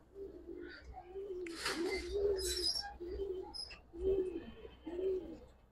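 Pigeons at a pigeon market in Old Dhaka coo repeatedly in low, steady phrases while brief bursts of fluttering or rustling noise break in between the calls.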